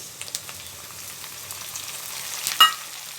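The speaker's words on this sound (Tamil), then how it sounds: "தக்காளியும் போட்டு உப்பும் போட்டுடலாம்" Tomatoes fry in a pan with salt added, a low, steady sizzle, light crackles throughout and a brief louder hiss near the end as something is stirred.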